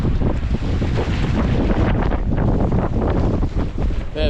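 Wind gusting across a Scottish loch, Loch Duich, buffets the microphone in a fishing boat, with a steady, loud broadband rush and rumble and lapping water, with no talking.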